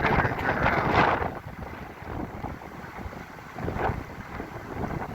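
Gusty wind buffeting the microphone outdoors on the water during a fishing outing from a boat, a steady broadband roar that swells loudest in the first second and again near four seconds, with no talk.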